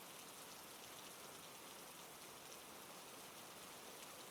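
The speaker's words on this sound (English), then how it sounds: "let the sound of the rain take us to the beginning" Steady rain falls evenly and continuously as a soft, dense hiss that stays constant throughout, with no voices or other sounds above it.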